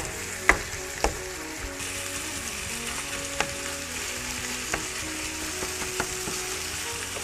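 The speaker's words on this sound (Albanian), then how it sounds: "filloni kështu, ta shtypni me lugën e drunit" Minced meat sizzles steadily in a pan while a wooden spoon presses and scrapes it, with a few sharp knocks against the pan.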